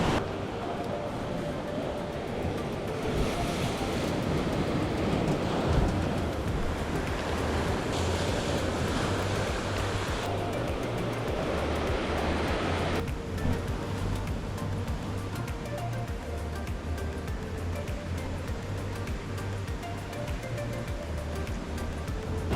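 Pacific Ocean waves and wind on a remote island shoreline: a steady, broad wash of surf with gusting wind, carrying a low droning hum underneath and no clear voices.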